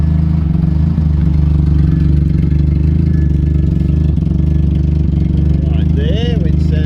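An old Mitsubishi GH Sigma engine idles with a hole in the rear muffler, a loud, steady, rough low drone throughout, with a brief voice near the end.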